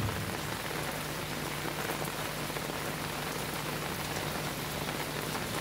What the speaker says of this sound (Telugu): ఒక పక్కన వర్షం పడుతుంది, ఆ నీళ్ళల్లో ఈదుకుంటూ చక్కగా విహారం.